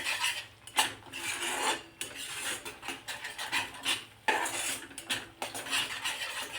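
Cashew curry masala stirred in hot oil, with a busy run of metal spoon scrapes and clatters against the pan over a steady low sizzle. Close and fairly loud, with no voices.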